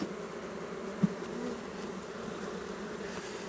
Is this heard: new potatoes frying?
no